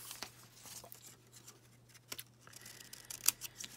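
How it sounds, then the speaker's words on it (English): Scissors snip tabs off printed paper strips for making paper beads, a few soft irregular cuts and rustles, quiet and close, over faint background hum. "I'm going to just take my scissors and I'm going to chop those off like so"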